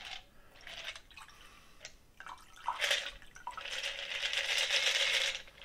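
Bourbon trickles and splashes into a glass in short, quiet bursts, building to a steadier pour toward the end.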